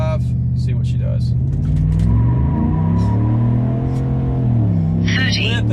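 A two-wheel-drive vehicle accelerates hard with its tires spinning, the loud engine roar climbing and sweeping in pitch under a deep, steady rumble that runs the whole time.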